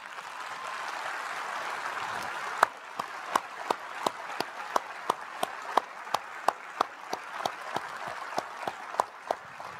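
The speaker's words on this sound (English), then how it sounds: "Will all of our faculty please stand and let us give you a round of applause?" Audience applause for faculty at a university commencement ceremony, starting as a dense wash of clapping, then settling into a rhythmic, evenly spaced clap pattern that carries on steadily to the end.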